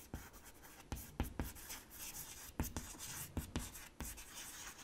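Chalk or marker strokes on a board during a structural geology lecture, a series of short sharp taps and scratches spaced irregularly, close and fairly quiet, with no talk.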